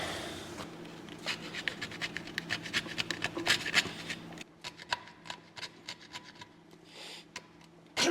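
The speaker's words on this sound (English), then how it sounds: "we probably should scrape that gasket off there" Scraping an old gasket off an engine on a 1932 Ford and Model T hot rod roadster: a run of short, uneven rasping strokes, close and moderately loud, pausing briefly midway then continuing, with no talk.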